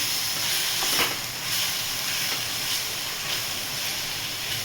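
Onion sautéing and browning in a pan, a steady close hiss and sizzle with faint soft clicks of stirring, no voices over it.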